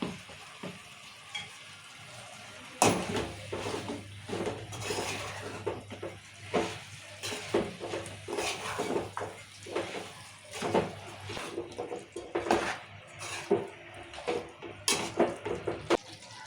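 Chicken curry with chili powder frying and being stirred in a pan, a steady sizzle with repeated scraping and stirring strokes, close and moderately loud, with no talk.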